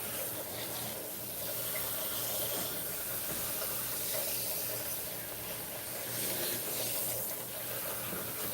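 Warm water runs steadily from a salon tap while hair is rinsed after a shiny silver ultra conditioning shampoo, a continuous close hiss and splash with no break and no talk.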